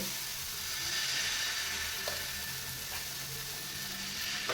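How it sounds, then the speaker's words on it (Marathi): Soft, steady sizzling hiss of wheat-flour batter cooking on an oiled hot griddle, fairly quiet and continuous, with a faint clink or two. "आता तव्याला आपण तेल लावून घ्यायचंय आणि हे बेटर आपल्याला असं तव्यावर सोडून घ्यायचंय."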